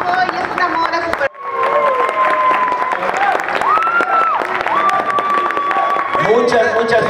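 Applause from an audience at an awards ceremony, steady crowd clapping blended with background music and cheering, briefly cutting out before resuming loud and full.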